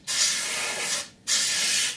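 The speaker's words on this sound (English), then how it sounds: "you can obviously pick out panels and give them a quick spray" Paint sprayed onto scale model panels: two close, bright hissing bursts from a spray nozzle, the first long and the second following after a brief pause, with no talking.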